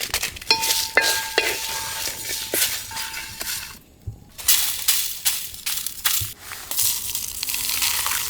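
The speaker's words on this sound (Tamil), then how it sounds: "இப்போ இதை கருக்காமல் நல்லா வறுத்து விட்டுக்கலாம்" Whole spices roast in a dry pan with dried red chillies: cardamom, star anise, mace, black pepper, stone flower and cumin. Close, busy rattling and scraping as they are stirred, with a faint crackle and a short pause.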